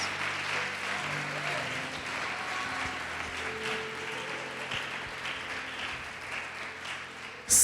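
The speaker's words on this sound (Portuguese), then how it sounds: "Pode aplaudir e glorificar o Senhor Jesus" A church congregation claps together in a steady, moderately loud wash of applause that carries on for several seconds, with faint murmurs and a low background hum underneath.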